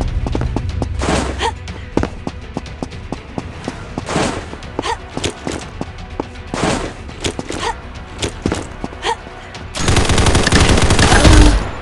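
SIG MCX rifle fire in the shooter game Combat Master cracks out in rapid bursts and single shots, loud and close, with a sustained burst near the end and occasional game voice lines between.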